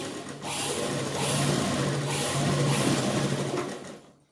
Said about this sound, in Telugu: మనము సూది కింద పెట్టేసి కుడి స్టిచ్ చేసేద్దాము